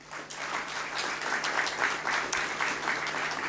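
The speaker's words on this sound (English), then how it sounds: "let's have once again a huge round of applause for ACME Solar" Sustained applause from a ceremony audience at a company stock-exchange listing, a steady broad wash of many hands clapping, moderately distant.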